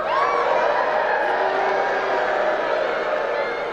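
A large crowd cheers and roars continuously and loudly throughout, a dense wash of voices with no individual words standing out.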